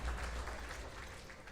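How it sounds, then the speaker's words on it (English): A tournament crowd applauds steadily at a Capcom Pro Tour North America Street Fighter qualifier. The clapping is a soft, continuous wash at a distance, without voices over it. "Crowd gives it up for great play."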